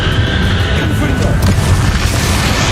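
The Confringo explosion spell in the video game Hogwarts Legacy lands as a loud, dense booming blast, with rumbling low-end roar and crackling debris sustained over a couple of seconds.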